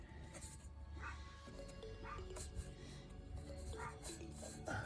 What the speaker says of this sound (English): Oh, it's just my landlord's dog.